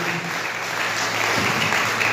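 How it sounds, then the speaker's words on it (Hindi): A church congregation at New Life Church clapping hands together in praise, a steady dense wash of applause that fills the whole moment with no break, loud and close. "ताली बजा के परमेश्वर को महिमा दे"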